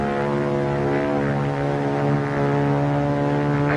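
A World War II-era propeller airplane drones steadily and loudly with a constant engine hum and no break or voices.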